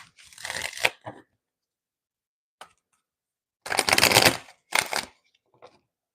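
Crisp bursts of tarot cards being shuffled close up, a long riffle, a brief tap, then two more riffles separated by silence.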